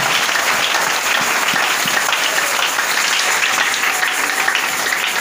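Church congregation bursting into loud, dense applause, a continuous wash of many hands clapping with no pauses, close and filling the room.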